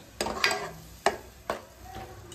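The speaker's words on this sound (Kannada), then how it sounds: "ಕಮ್ಮಿ ಉರಿಯಲ್ಲೇ ತೆಂಗಿನಕಾಯಿ ರಸನ ನೀಟಾಗಿ ಮಿಕ್ಸ್ ಮಾಡೋಣ." Coconut milk mixture stirred in a pan over a low flame: a few distinct scraping strokes spaced about half a second apart over a faint background hiss, close and fairly quiet.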